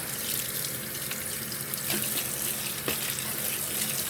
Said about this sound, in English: Let's rinse in my hand a little bit more in this cold water